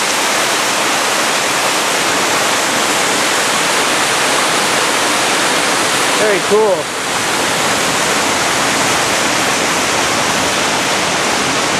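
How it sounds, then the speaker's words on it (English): Upper falls in Provo Canyon roar as a steady, loud wash of falling water filling the whole clip, with a brief spoken remark partway through. "The upper falls of Provo Canyon."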